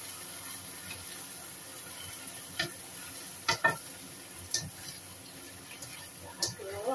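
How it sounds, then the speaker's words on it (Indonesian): Stir-fried luffa (tumis oyong) is stirred in a pan over a faint sizzle, with a few soft utensil taps and scrapes spaced apart, quiet and close. "Kita aduk."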